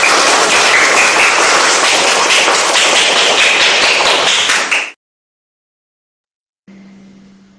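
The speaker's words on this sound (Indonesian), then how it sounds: "Tepuk tangan untuk kita semua." Group of school teachers in Indonesia claps hands together in a dense, loud, sustained burst for about five seconds, cutting off abruptly into silence, followed by a faint steady hum.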